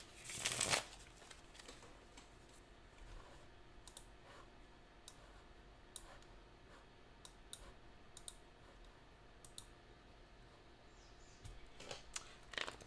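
A Morgan Greer tarot deck shuffled close to the microphone, with soft riffling and scattered crisp card clicks spread through a quiet room, and a louder rustle at the start and end.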